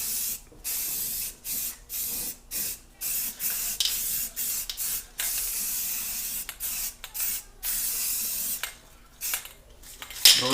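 Repeated bursts of aerosol spray paint hissing onto car wheels, each a second or so long with short gaps between, close and steady, with no voices.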